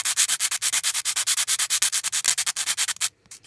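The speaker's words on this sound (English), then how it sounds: "You're just gonna kind of sand it and shape it, smooth it up a little" Rapid back-and-forth sanding strokes on a small gingerbread baluster, a steady run of about thirty quick rasping passes, close and loud, stopping abruptly near the end.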